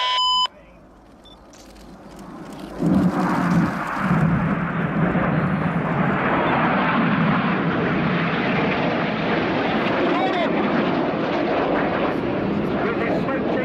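Red Arrows BAE Hawk T1 jets pass at an airshow, a broad jet roar swelling in after a short beep and then holding loud and steady, with commentary over the top.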